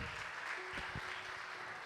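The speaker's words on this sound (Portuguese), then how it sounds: "Se você pode, aplauda Jesus bem alegre." A church congregation applauds with soft, steady clapping that sounds distant and faint, continuing evenly for under two seconds with no voices standing out.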